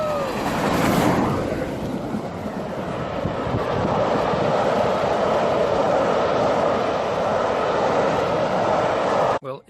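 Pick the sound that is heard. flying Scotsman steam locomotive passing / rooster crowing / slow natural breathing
flying Scotsman steam locomotive passing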